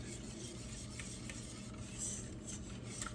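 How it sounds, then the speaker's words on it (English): Chocolate cream pie filling being stirred in a pot over low-to-medium heat on a stovetop, a steady close scraping and rubbing with faint soft clinks against the pot, continuous and quiet with no talking. "And we're gonna stir it."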